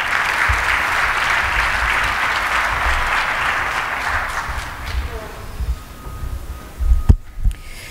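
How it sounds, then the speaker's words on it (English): Applause from a large audience at the launch of the MeerKAT telescope, honouring the district mayor. It is steady and loud for about five seconds, then thins into scattered claps and crowd noise. "A round of applause for her."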